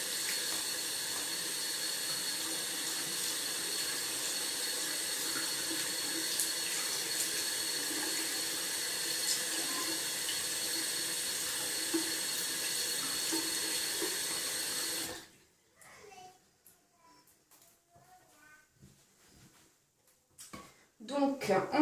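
A tap runs steadily while a toy pony's mane is rinsed, a close continuous water hiss that stops abruptly partway, followed by quieter handling and a voice talking.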